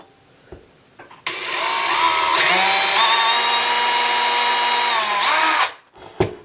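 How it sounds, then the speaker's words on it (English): A power drill with a 1/16 inch bit whirs steadily for about four seconds boring a small hole in a ceiling, its pitch shifting slightly, with brief knocks before and after. "Let's grab our 1/16 inch drill bit and drill a small hole in there."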